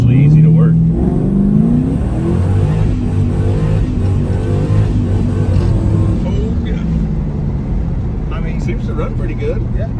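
A 1985 Chevrolet C10 Squarebody pickup's engine revs hard and bounces off the rev limiter, loud and close, while people talk over it.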